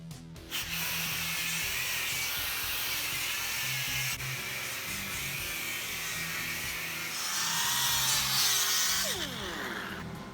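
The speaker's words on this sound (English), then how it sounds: "This is the sander I'm going to be using, the Blue Point sander, air sander." A Blue Point air sander works the wooden body of a homemade electric guitar, giving a steady, close, high whirring buzz for about ten seconds that swells slightly near the end.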